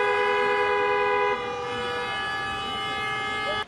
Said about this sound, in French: Des files d'attente interminables, bercées par la douce mélodie des klaxons.